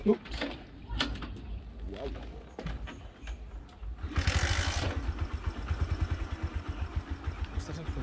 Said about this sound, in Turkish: bu misafirhanenin çevresinde dolaşacağız motorla. Boda Boda'yla.